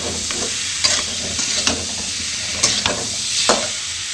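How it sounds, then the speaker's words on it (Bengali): Cumin, coriander and chili powders, ginger-garlic paste and salt are sautéed in a pan, giving a loud, close sizzle broken by several sharp spoon-scraping strokes. "এবার এটা দিয়ে আমি কষাবো, কষিয়ে হালকা আছে পুরো ঢেকে ঢেকে এটাকে ভাজবো"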